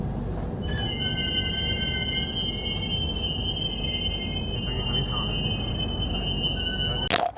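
Tamralipta Express passenger train on the Howrah to Digha run, a steady rumbling roll of wheels on track with high metallic squealing tones, sounding close and continuous throughout, ending in a sharp bang.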